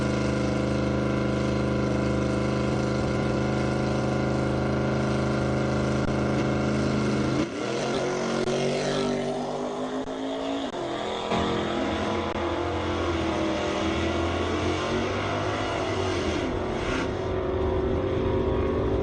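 A real yellow Chevrolet Camaro, car 5456 in the right lane, launches at a Division 5 ET finals drag strip. A loud, sustained engine roar carries throughout, its pitch shifting and climbing after a sharp change partway through.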